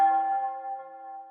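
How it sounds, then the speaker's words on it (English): A single tubular bell tone from a Polyscape Nova synth layer strikes once and rings on as a sustained, slowly fading metallic hum, heard alone and up close. "And then I've just added a tubular bell."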